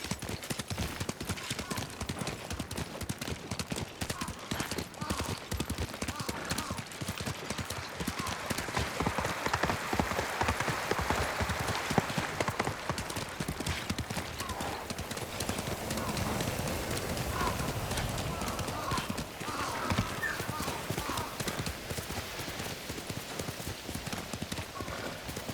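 Horse hooves galloping in Ghost of Tsushima on PlayStation 5, a fast, continuous clip-clop rhythm mixed with rushing wind and ambient game noise, with occasional speech over it.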